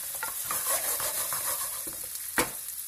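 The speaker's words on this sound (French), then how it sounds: "Je vais mélanger légèrement." Piperade vegetables of white onion, green and red pepper are stirred in a hot pan with a soft continuous sizzle, scraping strokes and a sharp utensil tap against the pan near the end, with no talking.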